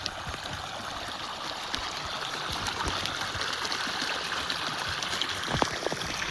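Irrigation water flows steadily into a rice paddy field, a continuous rushing trickle with soft gurgles, fairly quiet and even with occasional faint splashes, no talking.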